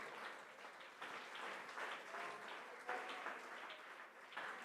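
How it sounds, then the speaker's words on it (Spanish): A church congregation applauds steadily and continuously at low volume, the sound of many hands blending into a soft, dense wash heard from a distance. "Aplausos para el Señor"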